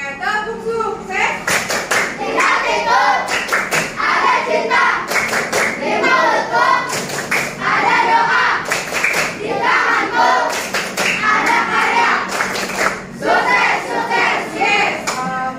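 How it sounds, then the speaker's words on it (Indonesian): A classroom of students performs the rhythmic 'tepuk sukses' clap in unison, sharp clap bursts in a patterned beat mixed with group chanting voices, loud and close throughout. "Oke, tepuk sukses."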